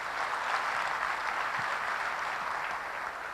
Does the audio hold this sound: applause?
yes